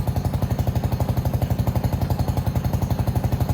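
A rebuilt Venom x22GT 250cc automatic motorcycle engine idles at about 1500 RPM, a steady, even chug of rapid regular pulses, close and fairly loud, with no talking.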